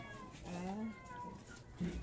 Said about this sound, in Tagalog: Hoy pusa, makikiraan.